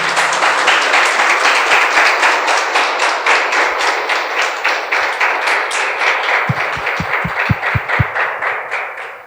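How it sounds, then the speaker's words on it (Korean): Loud, dense applause from a congregation at a family church service, steady and close, with a series of low thumps near the end. "박수 한번 해야지."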